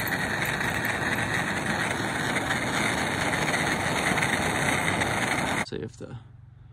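A gas torch heats heat-shrink tubing on a handmade battery cable, giving a loud, steady roaring hiss that holds for about five and a half seconds before it cuts off abruptly, leaving quieter rustling.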